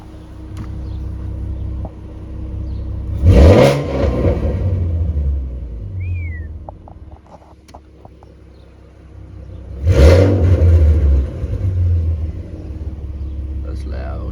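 A 2014 Mustang with a modified X-pipe exhaust rumbles at idle, then roars through two sharp, loud revs several seconds apart before settling back to a deep idle.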